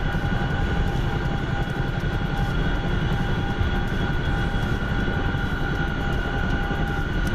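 Steady engine drone of a fixed-wing aircraft on landing approach in a video game, decelerating and descending toward a lit runway, a loud continuous roar with a faint steady whine above it and no talk.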